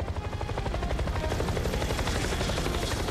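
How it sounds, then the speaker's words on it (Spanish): An animated cartoon helicopter approaches with a rapid, loud chopping of rotor blades, dense and continuous throughout, with no talking over it. "¡Miren! ¡Ahí viene el helicóptero!"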